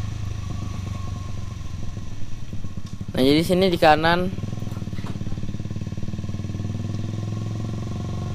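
A Honda CBR150R Repsol Edition motorcycle idles with a steady low rumble, briefly revving higher in the middle while someone talks over it.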